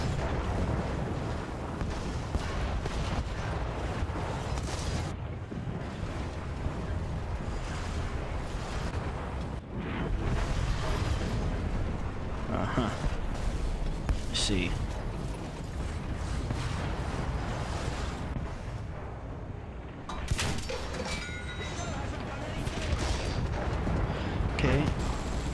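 Japanese tank cannon fire and explosions in War Thunder, a loud continuous battle din of booms and blasts with sharp shots breaking through, under a voice talking over it.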